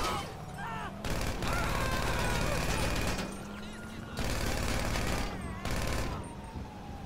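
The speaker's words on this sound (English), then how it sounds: "Wait a minute, I'm gonna start shooting people." Gunfire in GTA V: repeated loud bursts of rapid shooting separated by short lulls, close up, with someone talking over parts of it.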